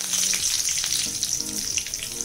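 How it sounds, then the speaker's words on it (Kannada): Mustard seeds popping and spluttering in hot oil while tempering for vangibath, a steady close crackling sizzle with faint scattered pops and no talk. "ಸಾಸಿವೆ ಸಿಡ್ದಿದೆ"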